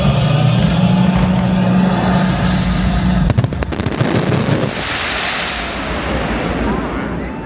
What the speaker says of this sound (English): jettison all unused fireworks